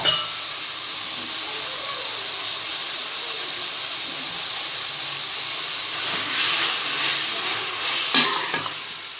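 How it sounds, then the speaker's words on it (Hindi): Beef keema dropped into a pan of fried spices sizzles steadily with a broad hiss, swelling louder near the end as the mince is stirred, close and without voices. "अब हम इसमें ये हमने जो बीफ का कीमा लिया था वो ऐड कर रहे हैं।"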